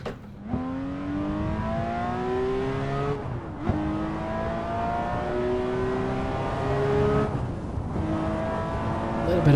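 A racing car engine in a sim racing game revs and climbs through gears using a Fanatec Clubsport SQ V1.5 shifter, with a steady rising drone and two short breaks at the shifts.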